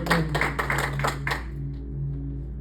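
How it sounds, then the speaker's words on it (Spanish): Congregation applause at a church service, a burst of brisk clapping for roughly a second and a half that quickly fades out under a steady low hum. "Dale un aplauso al Señor."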